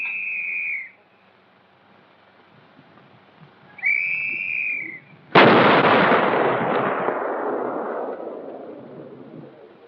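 A 280mm atomic cannon fires during an Aberdeen Proving Ground test in 1954, a single sharp, loud blast with a long rumbling decay, preceded by two short whistle tones on an old film soundtrack.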